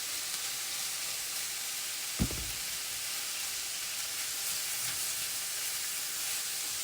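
Vegetables and onions fry in a pan with a steady, soft sizzle and hiss throughout, broken by one brief low clunk partway through.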